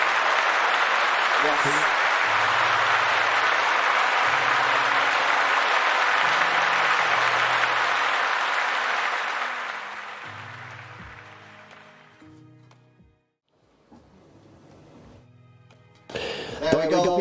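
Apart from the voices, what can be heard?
audience applause for player of the season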